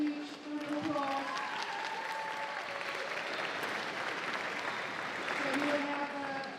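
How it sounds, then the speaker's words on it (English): Audience applause for the finalists at a junior squash championship on an exhibition court, a steady, dense round of clapping that holds for several seconds, with voices and some talk mixed into the crowd noise. "Please give both of the finalists a huge round of applause."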